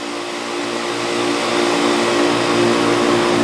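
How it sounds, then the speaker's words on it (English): An air conditioner condenser fan motor spins up with a steady whooshing airflow and a constant electrical hum, growing slightly louder and then holding steady, close and alone. "This motor is spinning."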